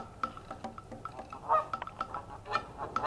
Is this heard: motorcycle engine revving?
no